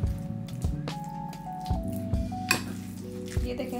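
Chicken kebab mixture is mixed with spices by hand, giving soft, wet squishing and squelching sounds. The sounds come close and irregular, over steady background music tones.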